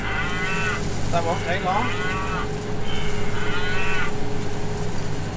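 Dairy cows on a hay farm moo repeatedly in long, loud, drawn-out calls close by, over a steady rumble of machinery; someone briefly speaks between the calls.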